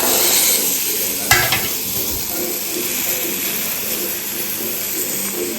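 Chickpeas are stirred into a frying masala in a home kitchen, with a continuous sizzle under spoon scrapes and a sharp clatter early on.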